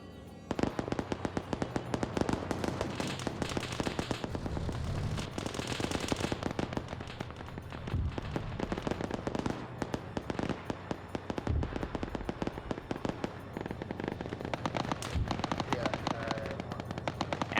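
Mortar fire and battlefield gunfire in a combat video game, a dense barrage of rapid shots and bursts, loud and continuous, with faint talk occasionally underneath.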